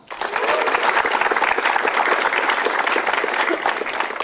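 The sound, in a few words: audience applause at comedy show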